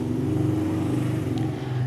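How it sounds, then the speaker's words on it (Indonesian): A motorcycle passes by on a nearby road, heard as a steady, moderately faint engine drone with a low rumble that holds evenly throughout. "sebentar ada motor, ini biar lewat dulu"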